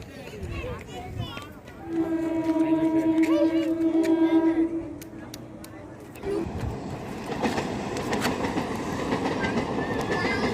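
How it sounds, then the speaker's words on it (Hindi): A train runs across a bridge at evening, a loud rolling clatter of wheels on rail with a prolonged horn-like tonal blare early on, then a continuous rumbling rush as the carriages pass close by; no clear talk. "ट्रेन भी आसुची"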